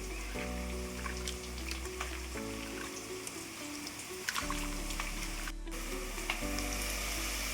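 Small isukupuri fish with mixed masala sizzling and frying in a pan, a steady hiss with soft crackles and occasional stirring, with a low hum underneath.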